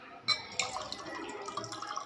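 Water is released from a test tube into a beaker for a photosynthesis funnel experiment, heard as faint close trickles and drips in a short, quiet burst.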